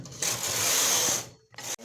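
A punch card knitting machine carriage sweeps across a row of a cardigan in one loud, steady mechanical whir lasting about a second, then stops abruptly before a brief start of another pass.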